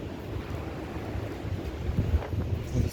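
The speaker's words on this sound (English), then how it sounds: "pretty windy out here." Strong wind ahead of a storm line in South-Central Kentucky under a tornado watch, a steady low rushing rumble with gusts buffeting the microphone, no voices.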